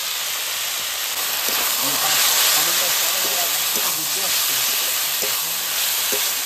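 Chicken keema mince fried in spices hisses and sizzles steadily in the pan, close and fairly loud, with a voice speaking over it.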